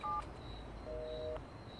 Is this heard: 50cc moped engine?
no